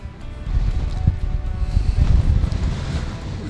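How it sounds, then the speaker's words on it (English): Strong wind buffets the microphone high on Naudé's Neck, a mountain pass in Lesotho, a loud, continuous low roar that gusts up and down without pause. "the wind is insane"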